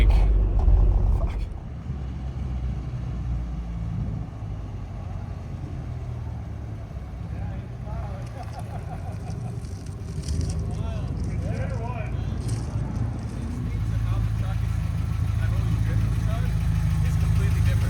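Engine of a 1988 Toyota 4Runner truck with a stroker engine rumbling steadily while driving, a low continuous drone that swells slightly near the end, with people talking over it.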